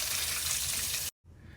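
Warm water runs steadily from a tap for soaking pinto beans, a close, broad rushing stream that cuts off abruptly, followed by a quieter trickle.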